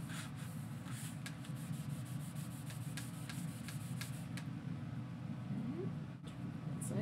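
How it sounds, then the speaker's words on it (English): A cloth buffs wax off a furniture transfer with a soft, steady rubbing hiss, faint and continuous, broken by a few light repeated strokes. "now I'm buffing this off so that I don't feel the wax anymore"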